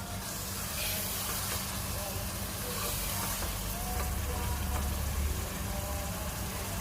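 Something fries in a pan as a steady, broadband hiss and sizzle that runs unbroken throughout, fairly soft and even, with no distinct pops or other events standing out.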